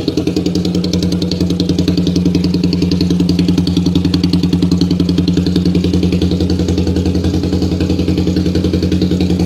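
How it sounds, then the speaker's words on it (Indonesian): A Suzuki Satria motorcycle fitted with an aftermarket racing exhaust idles up close, a loud, fast, even putter with a steady rhythm and no voices. "Ini adalah suara asli dari suara knalpot racingnya."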